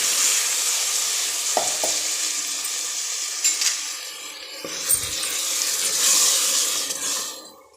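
Bitter gourd sambar masala frying and being stirred in a pan, a steady close sizzle with scraping strokes of the spoon and a few louder clanks, no voices.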